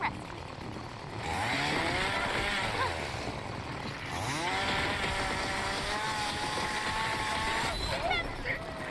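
A chainsaw revs in a video game, its high buzzing whine rising and falling continuously for several seconds at close range, with people talking over it.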